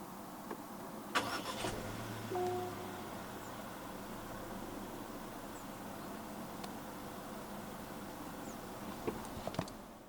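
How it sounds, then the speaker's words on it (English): A 2025 Chery O5 with a 1.5 turbo engine is started by push button from inside the car. A few faint clicks come before a soft engine catch, then a quiet, steady idle hum in a calm interior. "Put your foot on the brake and press the start button to the left of the steering wheel."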